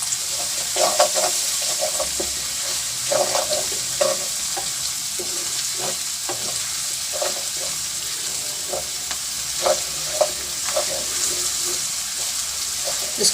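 Turmeric, ginger, chillies and salt fry in a pan with a steady close sizzle, broken by repeated short scraping stirs throughout and a faint watery hiss underneath.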